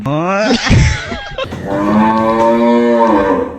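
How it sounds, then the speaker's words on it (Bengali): A cow lows loudly and close by in a village, with two drawn-out moos, the second longer and steadier. "এদিক খালি গরু আমলাইছে।"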